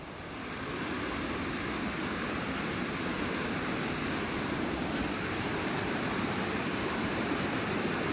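River water flowing steadily on the Appalachian Trail in Vermont, a broad continuous rushing wash, close and even throughout with no talk.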